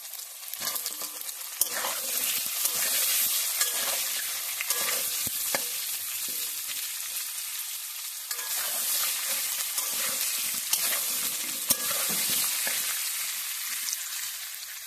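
Potato and pumpkin pieces fry in hot mustard oil, a steady close sizzle with crackles and pops running throughout, plus occasional scrapes from stirring and no talking.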